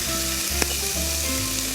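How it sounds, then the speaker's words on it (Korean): Potato strips sizzle and crackle steadily in a hot oiled pan while being stir-fried for Korean potato japchae, a continuous close frying hiss with no voices. "자, 감자를 넣어주시고요. 자, 이렇게 이제 볶는데"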